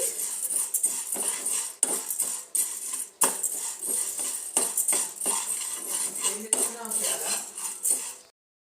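Toor dal being dry-roasted in a pan for kandi podi, heard as busy metallic scraping and clinking of a spoon against the pan, close and continuous, fading out at the end.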